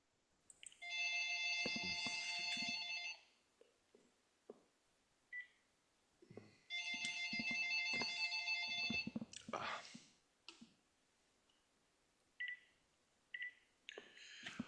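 An electronic telephone ring sounds indoors during a ham radio contest-prep meeting, two long warbling tone bursts a few seconds apart, with short beeps and faint clicks between them.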